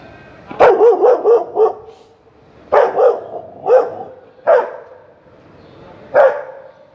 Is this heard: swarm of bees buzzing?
no